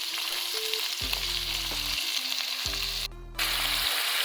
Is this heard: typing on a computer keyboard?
no